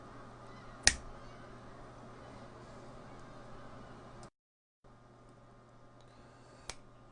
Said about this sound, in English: I'm going to snap my fingers and it'll magically be 12 hours later